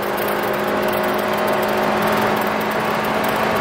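Honda Freed GB3 with a remapped ECU revving hard on kick-down toward 7,000 RPM, a loud, steady engine drone heard from inside the cabin with no talk over it.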